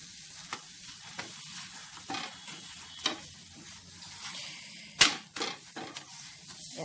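A methi paratha sizzles on a hot pan while being pressed down, with steady frying hiss broken by several sharp scraping presses and taps of the spatula.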